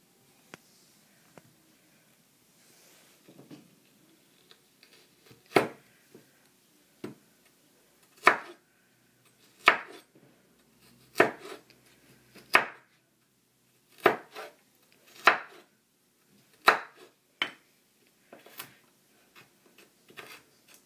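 A knife chops a carrot finely on a cutting board for a budgie meal, a series of crisp, separate thuds that start sparse and faint, then come about once a second, each a sharp knock against wood.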